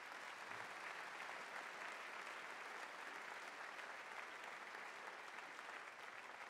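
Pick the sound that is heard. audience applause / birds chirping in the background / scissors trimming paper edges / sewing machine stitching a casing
audience applause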